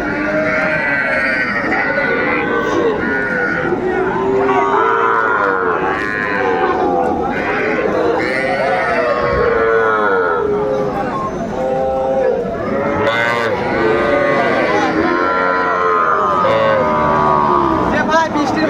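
Sahiwal cattle, cows and calves, moo repeatedly at a busy livestock market, with overlapping lowing calls amid constant crowd chatter and talk nearby.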